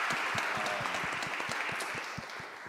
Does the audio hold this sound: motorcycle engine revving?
no